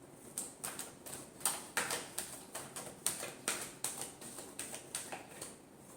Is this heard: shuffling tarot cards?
yes